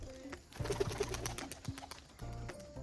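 A pigeon newly brought home from the market coos in short, low, throaty bursts at close range, with a few soft rustles and wing sounds in between and no talking.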